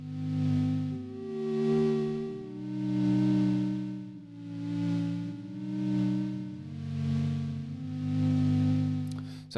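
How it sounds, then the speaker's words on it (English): A warm, analog-style lo-fi synth patch built in Xfer Serum plays sustained chords that swell and fade in a slow, steady pulse, loud and alone without any voices. "So it's quite a nice analog lo-fi sounding synth here."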